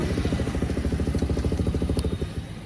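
A fully modified motorcycle idles close by, its engine thumping in a rapid, steady, loud pulse with some rattle on top, and no talking.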